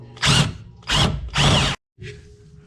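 Power wrench spinning out a lower strut bolt on a Nissan G35, three loud close whirring bursts, then a short gap and a fainter fourth run.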